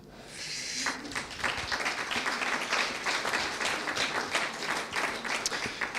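An audience at a 2018 general assembly applauds a guest joining the stage, clapping building quickly from a few hands into steady, fairly faint applause that continues throughout.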